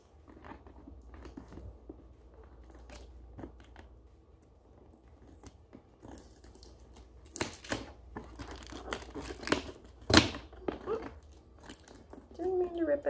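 Packaging for an Arctic Air Ultra cooler is pulled open, with crinkling plastic and cardboard building to a sharp ripping tear near the end and a few quieter rustles before it.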